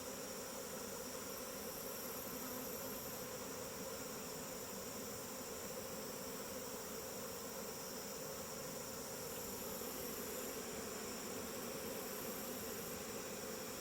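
A honey bee swarm pours into a hive box, giving a steady, dense droning hum of many wings that stays even and continuous, fairly soft and close, with no voices.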